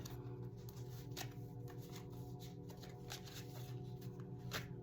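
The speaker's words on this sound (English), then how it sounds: "I just like to shuffle my cards before I put them back all together" Tarot cards are shuffled close up with soft repeated riffling and flicking, quiet and continuous over a low hum.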